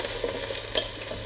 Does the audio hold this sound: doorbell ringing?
no